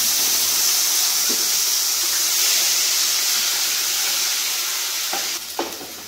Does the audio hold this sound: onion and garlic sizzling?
yes